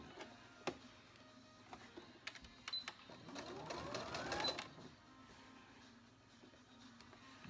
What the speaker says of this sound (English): To make certain that I'm sewing right on that line.